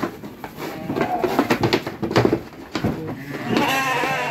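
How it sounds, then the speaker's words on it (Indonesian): Garut sheep in a pen, freshly sheared, bleating repeatedly at close range with overlapping calls and shuffling movement, growing into steadier noise near the end. "Nih, domba-domba baru dicukur ini."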